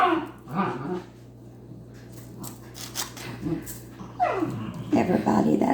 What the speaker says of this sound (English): Dachshund puppies playing in the background.